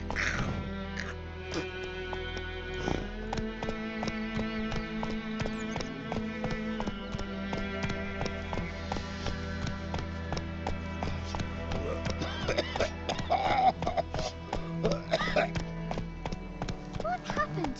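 Horse hooves clip-clopping at a steady gallop in The Witcher 3: Wild Hunt, a continuous rhythmic patter under a layered music score with occasional voices speaking over it.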